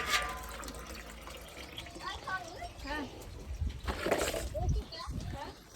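Water runs and splashes into a bucket nearby, filled to water a cow, while a person talks over the flow.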